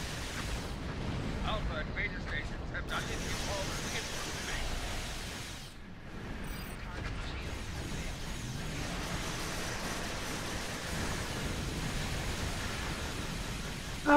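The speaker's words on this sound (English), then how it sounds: "Oh, these explosions aren't so powerful." Explosions rumble in a Star Trek Online battle, a continuous low, noisy roar with heavier bursts and a brief lull midway, heard fairly loud throughout.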